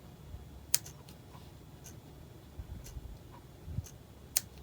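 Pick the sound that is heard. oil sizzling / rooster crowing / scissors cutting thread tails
scissors cutting thread tails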